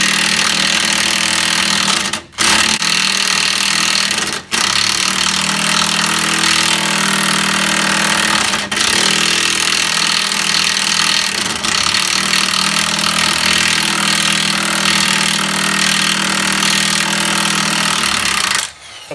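An impact wrench hammers continuously at a stuck nut and bolt, a loud, steady rattling buzz lasting almost the whole stretch, broken by a few very short pauses and easing off at the end.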